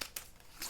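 Scissors trim a paper die-cut for a bow on a gift bag, giving two or three quick crisp snips with a light papery crinkle, close and fairly quiet, with no talking.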